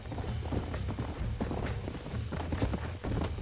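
Horse hooves clip-clop steadily on the ground in the Red Dead Redemption video game, a continuous close, rhythmic trotting with a faint whinny mixed in.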